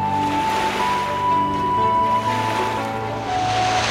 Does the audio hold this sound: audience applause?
no